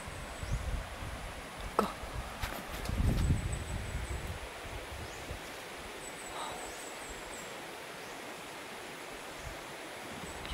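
Strong wind blowing around a hut outdoors, a rushing, rustling roar that swells and gusts in the first seconds, then settles into a steady windy hiss with a few short faint sounds and a brief voice.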